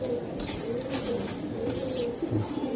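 Racing pigeons of the Giribaz breed coo in soft, repeated low burbles close by, with faint chirps mixed into a steady background hum.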